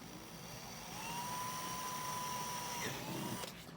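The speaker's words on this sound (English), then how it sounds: "I'm going to crack on with the drill bit and just take your time and just let the drill do the work" A small drill whines steadily at high pitch, rising slightly as it bites into plastic for a koi pond filter, then spins down and stops.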